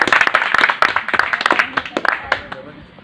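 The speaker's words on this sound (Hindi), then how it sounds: "बहुत सही, ताली बजाओ बच्चों।" Children at a summer camp in a school courtyard clap in a dense, rapid burst that thins out toward the end, with an adult voice speaking over the applause.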